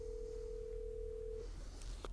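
A Yealink T41/T42 desk phone connecting a redialed call: a steady ringback-style tone that stops, followed by a couple of faint clicks, quiet and close with no voices.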